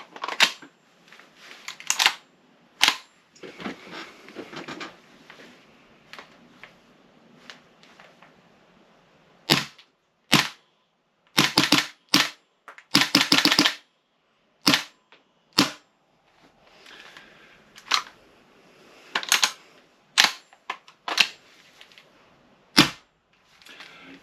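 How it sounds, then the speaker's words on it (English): An airsoft gun fires a series of sharp, snappy shots, single cracks and quick bursts separated by quiet gaps, with faint mechanical clicks in between, close and fairly loud. "I am just gonna have to fire a couple of shots through this"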